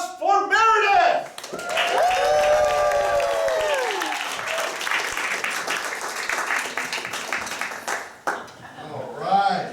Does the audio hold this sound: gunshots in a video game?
no